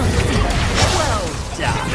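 Expulso explosion spell cast in the Hogwarts Legacy video game, a loud close crash and rumbling blast with a whooshing tail that fades briefly before more noise.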